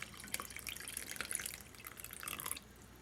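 Apple blossom liquid drips and trickles steadily through a coffee filter for a few seconds, soft and close, then stops, leaving faint quiet.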